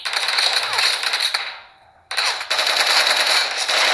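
Rapid automatic gunfire in a mobile video game, played on a Samsung Galaxy S21 Ultra, with dense bursts that cut out briefly to near silence before resuming at full loudness, close and sharp.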